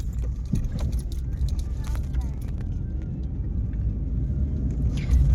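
A car drives along a road with a low, steady engine and tyre rumble from inside the cabin, a few small rattles and clicks on top.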